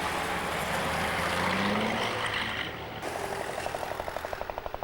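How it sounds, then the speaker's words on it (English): Edwardian vintage racing cars at Mallory Park sweep through the S bends on the opening lap, a loud, steady engine roar that gives way to a rapid, pulsing exhaust beat as another car comes through close by. "Coming through the S's on the first lap is 128 David Biggins and 118"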